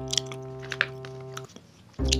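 Crunchy chewing of a large cookie at close range, with several crisp bites and crackles over a steady low hum, ending in a louder burst.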